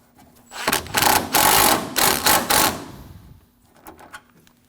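A power tool tightens radiator mount bolts on a 2016-2022 Honda during passenger-side A/C condenser fan work, heard as loud, close bursts of rapid mechanical rattling with short pauses between them.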